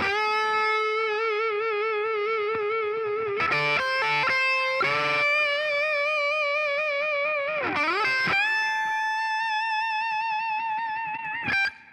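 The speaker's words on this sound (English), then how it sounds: "Then I got a spring reverb from Softube." A solo instrument line is processed through a Softube spring reverb plug-in in a mix, giving sustained, wavering tones with a few abrupt bursts and a short smeared tail. The sound is moderate in level and has no talking.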